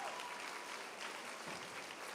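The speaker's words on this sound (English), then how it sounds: "I think they deserve a big round of applause for that" Audience applause at a Bharatanatyam-style dance arangetram: a steady, dense wash of many hands clapping together, sustained evenly for about two seconds at moderate, somewhat distant loudness with no voices over it.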